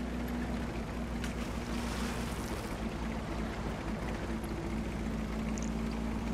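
A tank grinds through a swamp in World of Tanks, a loud continuous engine drone with sloshing, churning water noise throughout and no pauses.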